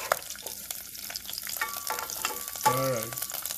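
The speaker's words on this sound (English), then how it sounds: "you hear it starts to sizzle a little bit. Let's start stirring it." Garlic sizzles and fries in a pan over low to medium heat as it is stirred, a quiet steady crackle with light scraping, and a brief tonal sound near the end.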